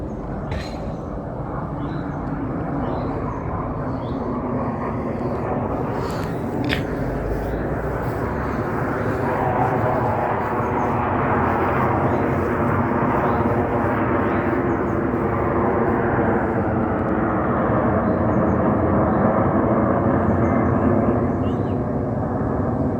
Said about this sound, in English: squadron of planes up there.